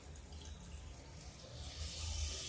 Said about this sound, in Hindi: अब इसमें हम डालते हैं पानी। गर्म पानी डाल देते हैं